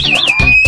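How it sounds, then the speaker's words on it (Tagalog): Electric scooter anti-theft alarm sounding a loud, continuous electronic siren that sweeps in pitch and then holds a steady whistling tone, with low thumps and handling noise underneath. "Tapos anti-theft alarm."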